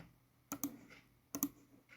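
Taps on an Android phone's touchscreen keyboard come as two quick pairs of sharp clicks, close and distinct against a quiet, faintly humming room.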